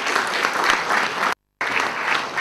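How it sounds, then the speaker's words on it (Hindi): An audience at an IMS Ghaziabad event claps loudly and continuously in a dense burst of applause, which stops abruptly for a moment and then resumes at full strength. "तालियां जोर से बजानी चाहिए"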